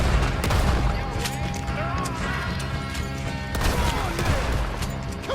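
Shotgun fire in Red Dead Redemption 2, played in first person during a fight with O'Driscolls: heavy booming blasts and crashes over a dense clamor of battle, with horses and shouting voices mixed in.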